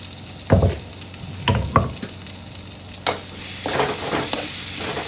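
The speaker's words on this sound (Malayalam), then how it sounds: "ചെറിയ ഉള്ളി വെളുത്തുള്ളി അത് നമുക്കൊന്ന് ഇട്ട് കൊടുക്കട്ടോ" Crushed shallots and garlic fry in a pan, giving a steady sizzle broken by several sharp bursts as they hit the oil and get stirred, close and moderately loud, with no voices.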